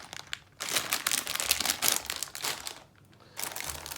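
A Lego polybag crinkling loudly up close in bursts of rustling and crackling, with a brief pause before handling resumes.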